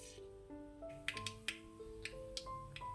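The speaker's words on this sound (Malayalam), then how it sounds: "കടുകിടുക, ഒന്ന് പൊട്ടി വരട്ടെ." Mustard seeds crackle in hot oil in a pan, sharp scattered pops and a handful of quick snaps over a quiet sustained tone.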